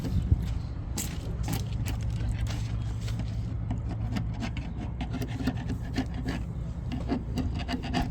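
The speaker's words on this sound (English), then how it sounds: "It's still scraping." Old bottom paint and gel coat are scraped off a fiberglass sailboat hull in a continuous, close, gritty rasp made of many short strokes that goes on without a break.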